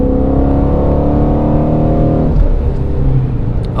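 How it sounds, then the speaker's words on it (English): A Ford Mustang Shelby GT350 engine revs hard in third gear through its sport exhaust, a throaty rising growl that cuts off abruptly into a lower burbling idle near the end. "The sport exhaust sounds fantastic."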